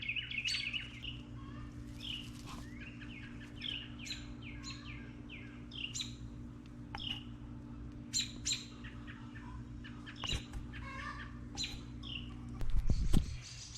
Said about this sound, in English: But yeah, baby robins, we'll leave them alone.